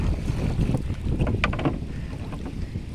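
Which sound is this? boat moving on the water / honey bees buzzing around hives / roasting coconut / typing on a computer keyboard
boat moving on the water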